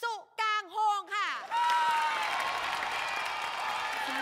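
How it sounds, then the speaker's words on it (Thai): A studio audience bursts into sustained applause to welcome a guest teacher on a Thai TV talk show. A voice speaks briefly first, then steady clapping fills the rest. "ขอเสียงปรบมือต้อนรับครูนกเล็กจิรพัฒน์สุกางโฮงค่ะ"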